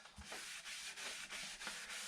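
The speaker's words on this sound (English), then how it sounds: "we'll use a tack cloth, go over the whole project" Soft rhythmic rubbing strokes as a tack cloth is wiped back and forth over a freshly sanded Shaker-style wooden side table, quiet and close with a steady repeating swish.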